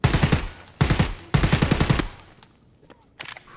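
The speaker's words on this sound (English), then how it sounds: "the scav shooting me in the back" Automatic gunfire from a scav in Escape From Tarkov, three rapid bursts of shots in quick succession, loud and close, then faint scattered game noises.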